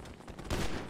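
Rapid video-game gunfire bursts in a Thai gang fight-training session, dense overlapping shots that swell louder in the second half, with no talk.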